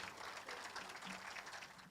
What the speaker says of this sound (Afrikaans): Ons gee vir jou 'n lekker hande klap